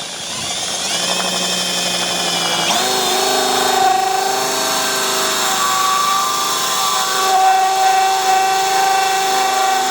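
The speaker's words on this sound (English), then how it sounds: "let's get the big drill on this. The hole saw time" A power drill with a hole saw cuts into a Nissan S12 Silvia's body, running continuously with a steady whining tone that shifts pitch as it bites into material, loud and close throughout.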